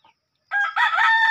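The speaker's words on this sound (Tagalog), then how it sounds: "Ayun, manok yan, manok." A chicken lets out a single loud, close crow that rises after a brief pause and holds steady to the end, with no talking.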